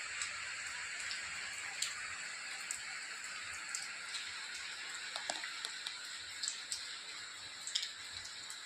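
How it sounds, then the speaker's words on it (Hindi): Steady rain falls outdoors, a continuous even hiss with scattered sharper drop impacts, soft and fairly distant, with no voices. "देखिए कितनी अच्छे से बारिश बराबर हो रही है"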